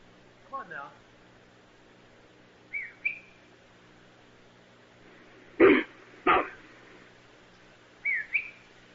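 Short, high whistle-like calls recorded in woodland and attributed to Bigfoot. Three brief rising tones are spread over several seconds, with two sharp, loud broadband bursts between them, against a quiet background.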